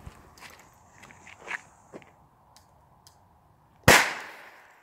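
A Pyrocracker firecracker goes off with one sharp, very bright bang near the end, its crack trailing into a short decay after a few quiet shuffles and rustles.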